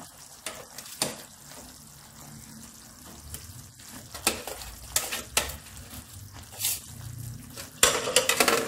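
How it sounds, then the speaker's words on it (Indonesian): Sticky glutinous rice for wajik ketan is stirred steadily in a nonstick pan, giving close, repeated scraping and wet sizzling strokes that grow louder toward the end, with no voices. "Lalu ini kita masak sambil terus diaduk-aduk"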